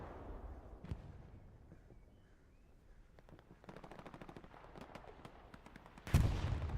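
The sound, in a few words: bombing run in video game Hell Let Loose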